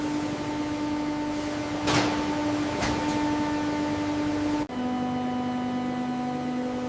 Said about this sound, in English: The pellets are fed into injection molding machines.